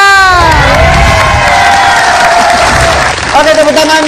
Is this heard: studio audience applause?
yes